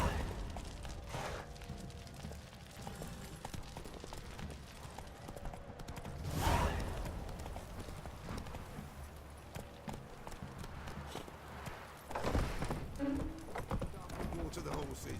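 A horse's hooves clip-clop in a steady walking rhythm while being ridden in The Witcher 3, with a couple of louder thumps, a brief whinny and faint game ambience underneath.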